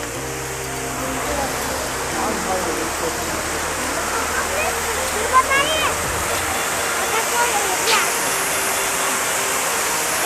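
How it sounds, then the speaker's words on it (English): A man-made waterfall in Wadi Shees park near Khor Fakkan, Sharjah, gives off a constant broadband rush of falling water. It stays steady throughout, with a brief low rumble early on and a few faint incidental sounds. "It's a man-made waterfall, I guess."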